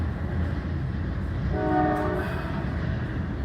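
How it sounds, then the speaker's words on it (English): A train rolls down the railroad tracks in Deep East Texas on a drizzly morning, a steady low rumble with a brief horn blast rising midway before fading back into the continuous roll. "The train is rolling down the tracks."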